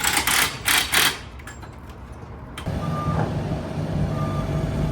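A vehicle backing out beside a 1979 Quadrac tractor during a track change. Several loud, rapid beeps sound near the start, then give way to a steady engine rumble and a faint, high tone, with no talking.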